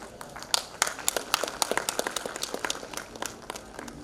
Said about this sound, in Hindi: तालियां बदस्तूर जारी रहनी चाहिए।